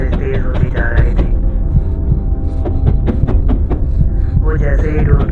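A racing heartbeat sound effect for a Hindi horror story: steady, throbbing low thumps pulse throughout, with faint tonal ambience layered above.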